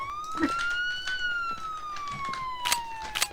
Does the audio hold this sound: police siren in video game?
yes